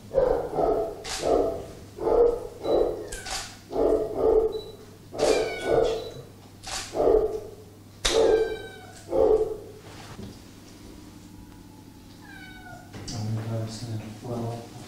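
Dogs at the Gaziantep dog care and rehabilitation center, a zoo-run animal shelter, give a steady run of loud, close barks and yelps, several overlapping. The calls thin out toward the end, where a person talks under a low background hum.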